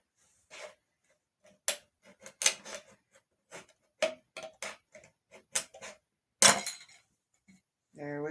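A scored metal can cut open around its edge with a small tool, heard as a series of sharp, close clicks and snaps spaced irregularly in otherwise quiet surroundings, with a brief voice at the very end.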